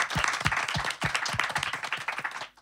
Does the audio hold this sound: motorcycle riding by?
no